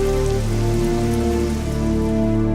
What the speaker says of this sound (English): Liquid methane, it seems, rains down on Titan